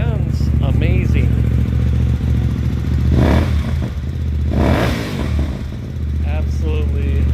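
A 2016 Hyosung GT250R motorcycle fitted with a new aftermarket exhaust idles loud and close, a deep steady burble that rises in a couple of brief revs, with someone talking over it.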